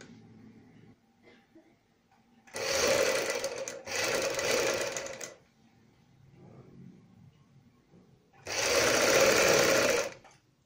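Stitching a strip onto a kurti sleeve, a sewing machine runs in three loud, close bursts, two back to back and a third after a long pause, with faint low sounds in the gaps.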